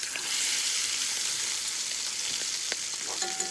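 Steak sizzling in a frying pan for a medium-rare dinner, a steady, close, loud hiss of frying with a few faint clinks and stirring sounds near the end.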